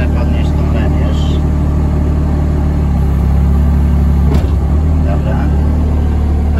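Excavator engine running at close range in a steady low rumble, continuous throughout with a brief mechanical clunk partway through.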